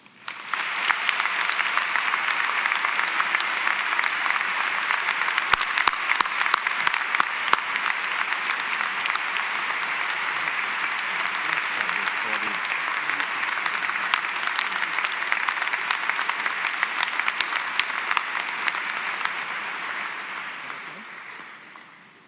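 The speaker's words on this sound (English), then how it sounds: "join me in saying thank you with one more round of applause" Sustained audience applause at a college commencement ceremony, a broad, steady roar of many hands clapping that holds for about twenty seconds before tapering off, with faint voices mixed in.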